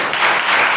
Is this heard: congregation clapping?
yes